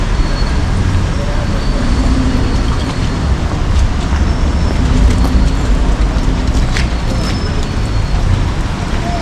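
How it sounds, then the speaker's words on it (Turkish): Rainy night street traffic in Batumi, Georgia, makes a loud, steady roar of passing vehicles close by. Tire hiss and engine rumble run without a break, and people talk faintly under it. "Burada da trafik var."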